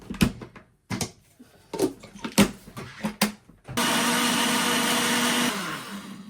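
A kitchen blender whirs loudly and steadily as it purees a berry, milk and spinach smoothie, starting after a few scattered knocks and clatters and running for about two seconds before easing off.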